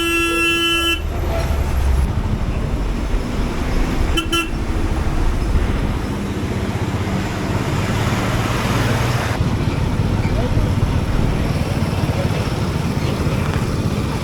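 Vehicle horns toot repeatedly in a weekend traffic jam on the Bhivandi stretch past Thane, short bursts over a steady roar of engines and road noise, with a prolonged horn blast near the start.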